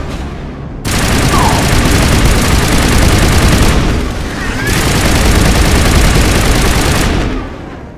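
Sustained automatic gunfire rattles loudly in Mass Effect, a dense continuous barrage that dips briefly mid-burst before resuming and then cuts off near the end.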